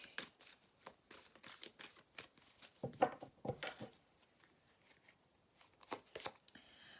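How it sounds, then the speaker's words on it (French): A tarot card is drawn from a deck: soft papery shuffling and sliding rustles in short bursts, faint and close in a quiet room, with a brief louder flurry midway. "Allez, on va mettre une carte dessus."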